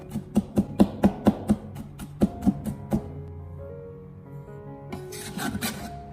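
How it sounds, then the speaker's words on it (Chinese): A knife chops garlic cloves on a cutting board into mince, a quick run of crisp evenly spaced knocks, a pause, a few more chops, then a brief scraping sound, close and clear with no voices. "准备几颗大蒜，给它改刀切成蒜末"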